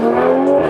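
A 2020 Toyota A90 Supra revs hard with a loud, sustained, harmonic engine note and squealing tires, close by and with no voices.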